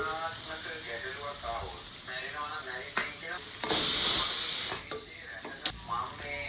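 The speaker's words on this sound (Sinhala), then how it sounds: "භාජනයක් ලිපේ තියලා ඒකට තෙල් චුට්ටක් දාලා ලෑස්ති කරගත්ත කරපිංචා ලුණු කුරුඳු ඔක්කොම දාලා තෙල් චුට්ටක් මලව ගන්නවා" Curry leaves, salt and cinnamon fry in a little oil in a pot, a soft sizzle and hiss running beneath a voice speaking throughout, with one louder burst of steamy hiss partway through.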